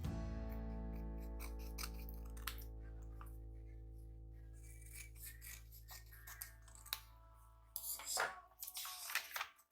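A paper pattern folded in half and cut with scissors along a traced line, a series of close, crisp snipping and rustling sounds that grow busier toward the end, over a fading musical tone.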